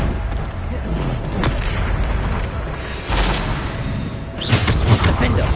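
Bombarda blasting spells from the Hogwarts Legacy video game go off in dense succession, low booming bursts layered over constant battle noise, with heavier hits near the middle and the end.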